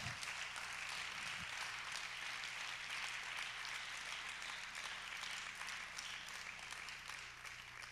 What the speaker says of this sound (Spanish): Dale un aplauso a la presencia de Dios.